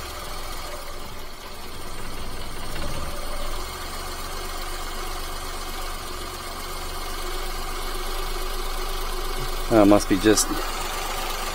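A micro van's small engine idles with a steady low rumble throughout. A brief exclamation and a few sharp knocks come near the end.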